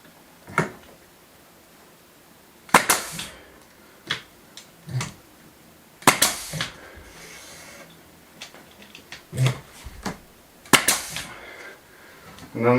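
Nail gun firing nails into a hand-made wooden architrave, several sharp isolated cracks spread irregularly across the stretch with quieter handling knocks between, close by.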